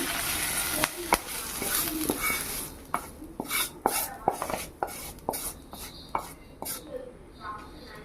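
Kalyana murungai leaves being sautéed in a pan, with a low steady sizzle under repeated sharp clicks and scrapes of a spatula or spoon stirring against the metal.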